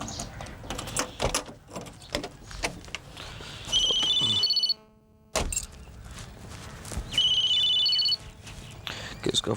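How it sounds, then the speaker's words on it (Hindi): Inside a home in a TV drama, a telephone rings in two trilling bursts a few seconds apart, over scattered footsteps, door movement and people talking. "किसका फोन आ गया?"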